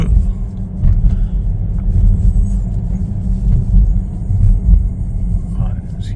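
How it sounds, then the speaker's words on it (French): A Renault Megane electric car accelerates in winter driving, a loud steady low rumble of road and motor noise filling the cabin while someone talks over it. "Donc là, je vous fais une petite accélération."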